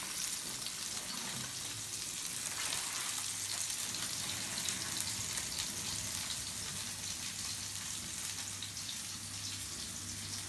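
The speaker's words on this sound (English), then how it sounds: "The vegetables we're now going to strain." Cooked vegetables are strained, and water pours out in a steady rushing splash with a soft hiss throughout, quiet and continuous, without any speech.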